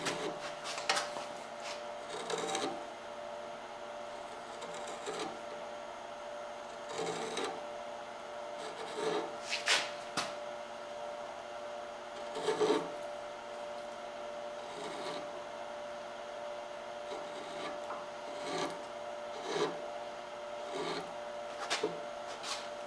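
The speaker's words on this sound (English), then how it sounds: "And I can use a back bent gouge again." A back bent gouge carves wood in short scraping, rasping strokes. The cuts come in irregular bursts, close and moderately loud, over a faint steady hum.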